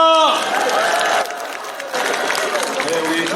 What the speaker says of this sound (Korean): 그리고 이가훈님께 큰 박수 부탁드립니다.